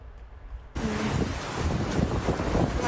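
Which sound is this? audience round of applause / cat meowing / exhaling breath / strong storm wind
strong storm wind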